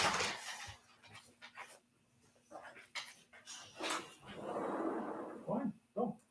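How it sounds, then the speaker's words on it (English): A pet dog panting and softly whimpering indoors, brief breathy bursts and small whines near the microphone, with a person talking in between. "yep, that's my dog."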